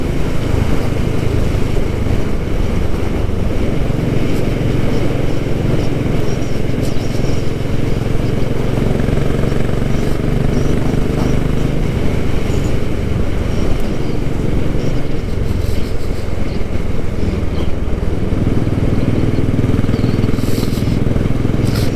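Royal Enfield Classic 500 motorcycle riding along quiet rural Suffolk roads, a loud, constant engine thrum with heavy wind buffeting, steady throughout with slight shifts in engine pitch.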